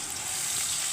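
Steady close sizzle of food browning in oil in a pan, a continuous hissing crackle with no pauses.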